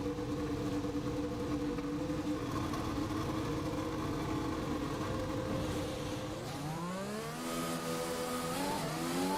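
A Formula 1 car in F1 2020 drives out onto the track, its high-pitched engine droning steadily, then dipping and rising through gear changes as it revs back up.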